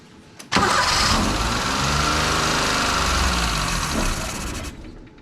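A small minitruck engine catches with a sharp start and then runs at a loud, steady idle close by, cutting off abruptly after several seconds.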